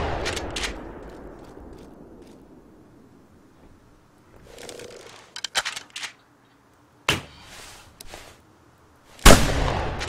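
Gunfire in a video game: several sharp, isolated shots spaced irregularly, with loud cracks near the end and quieter softer bursts between, over a low rumbling background and no talk.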